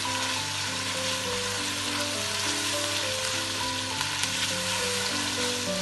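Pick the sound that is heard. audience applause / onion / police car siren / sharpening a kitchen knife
onion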